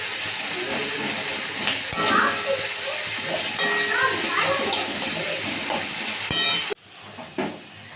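Onion, ginger, garlic and crushed whole green chillies sizzle steadily in a pan for chicken curry, with stirring scrapes and occasional clinks close by. The frying cuts out abruptly near the end, leaving quieter room sound.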